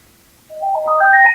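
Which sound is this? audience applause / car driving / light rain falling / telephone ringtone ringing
telephone ringtone ringing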